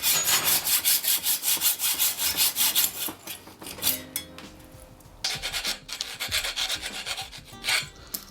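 Handsaw cutting a mountain bike's fork steerer tube to length on a Nukeproof Scalp build, fast rhythmic back-and-forth strokes close up, then a pause and a second burst of rasping strokes.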